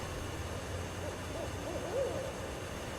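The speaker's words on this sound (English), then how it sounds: "at least you get to hear the call of the barred owl" A distant barred owl hoots a rising, rhythmic series of calls over a steady low outdoor hum, fairly faint.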